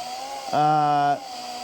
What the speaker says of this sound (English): so I'm just going very slow with the drill